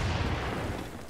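A grenade detonates during a firefight in the tactical shooter Insurgency, a deep, loud rumbling blast that fills about a second and slowly decays, with no talk over it.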